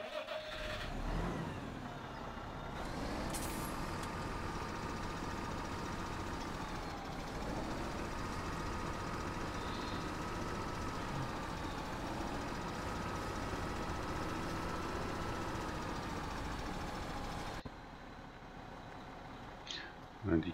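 A truck engine drones steadily in Landwirtschafts-Simulator 17 while hauling a load of timber, holding a fairly constant pitch before cutting out near the end.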